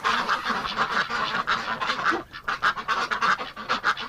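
Ducks and geese in a winter pen honk and quack in quick, rhythmic bursts close by, a brief lull in the middle before the calls pick up again, with no talking.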